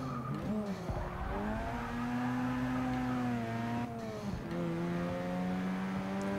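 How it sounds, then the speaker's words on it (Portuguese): A Mazda RX7 rotary engine in Forza Motorsport 6 revs high and climbs through rising pitches, with tyre squeal and a brief drop between shifts, loud and up close. "O motor tá bem agressivo"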